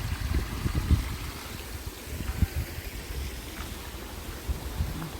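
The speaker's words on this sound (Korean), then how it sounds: "물도 졸졸졸졸 비가 와서 그런지 많이 흐르네요" Small stream swollen by rain at Oeam folk village in Asan, trickling steadily and softly close by, with low gurgles and faint outdoor ambience.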